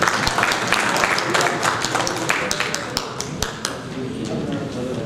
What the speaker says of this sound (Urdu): آپ آج کے اس پروگرام کے جو آرگنائزرز ہیں ان کے لیے ضرور آپ بھرپور تالیاں بجائیے